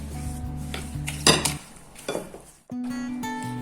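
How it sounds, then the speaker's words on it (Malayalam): Chopped strawberries are stirred with four tablespoons of sugar. Two short bursts of a spoon scraping and clinking against the container stand out over a steady low hum, with a brief gap of near silence between. "ചെറിയ കഷ്ണങ്ങളാക്കിയ സ്ട്രോബെറിയിലേക്ക് ഞാൻ 4 ടേബിൾ സ്പൂൺ പഞ്ചസാര ഇട്ട് കൊടുത്ത് ഇളക്കി"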